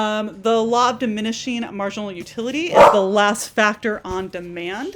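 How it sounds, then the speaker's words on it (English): A dog barks and yips repeatedly in the background of a home lecture setting, its sharp bursts running under steady continuous speech from a man. "Oh, and that's my dog barking"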